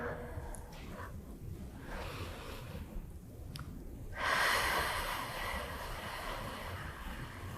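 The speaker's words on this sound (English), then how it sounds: "just breathe deeply" Deep breathing during a floor stretch after a chest workout, slow airy breaths close to the mic, with one fuller, louder inhale swelling partway through, and no speech.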